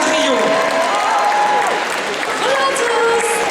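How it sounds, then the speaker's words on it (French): Crowd applause at a cosplay contest and parade at the Necronomicon convention, loud and continuous, with voices and a whistle-like tone carrying over the clapping. "Applaudissez très très fort"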